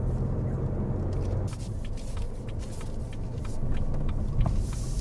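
Car engine during a driving exam, heard from inside the vehicle as a continuous low rumbling drone with scattered faint clicks and a slight swell toward the end, with no speech.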